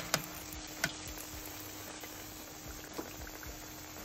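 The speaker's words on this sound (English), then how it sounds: "the Murasaki sweet potato latkes. Fry them." Murasaki sweet potato latkes frying in oil: steady crackling sizzle throughout with a couple of sharp pops near the start and a softer one later, close and alone without talk.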